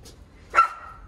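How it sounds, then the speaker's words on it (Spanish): A neighbour's small dog gives a single short, sharp bark at a house, heard alone and at moderate distance against a quiet background. "Ah, el perrito del vecino."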